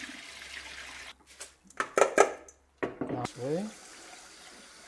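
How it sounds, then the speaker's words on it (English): Water runs and splashes as it is poured off washed sushi rice in a bowl, coming in short pouring bursts with gaps, with a brief spoken word from a person. "Now let's go draining again."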